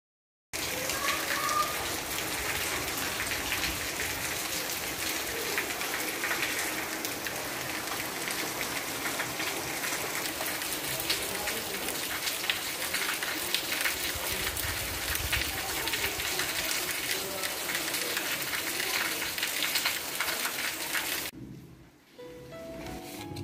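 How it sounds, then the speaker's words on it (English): Rain falling, a dense steady hiss of drops pattering on surfaces, loud and unbroken for most of the stretch before it cuts off abruptly near the end, no voices. "each and every day is not passing without the thundering and raining"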